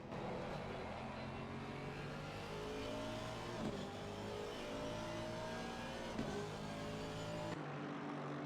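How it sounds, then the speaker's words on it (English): A Lexus race car in a racing video game, lapping the Nürburgring in an endurance event, revs and accelerates steadily with a continuous engine drone and shifting pitch, loud and close for the whole stretch, cutting off briefly near the end. "Seems the Lexus is getting a little bit squirrely under acceleration."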